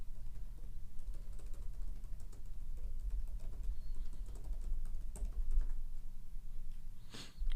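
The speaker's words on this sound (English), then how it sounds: "How's that ASMR typing noise?" Computer keyboard being typed on, a fast irregular patter of soft clicks over a low background hum, steady and fairly close with no voices.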